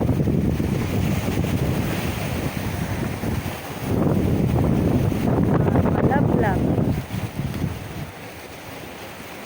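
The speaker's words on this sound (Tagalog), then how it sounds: "Napakalakas po ng hangin." Strong wind buffets the microphone at a beach in Pangasinan, a loud, steady roar mixed with the wash of surf, while people talk briefly over it.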